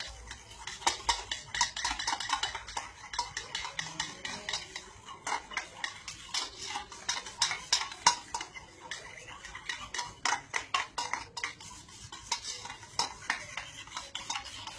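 A spoon whisking an omelette mixture of egg and chopped onion in a bowl, rapid rhythmic clicking and tapping against the sides, close and brisk with brief pauses.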